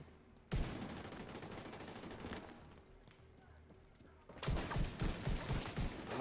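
Gunfire in the video game The Division 2, coming in rapid automatic bursts, with a denser, louder volley near the end and faint talk underneath.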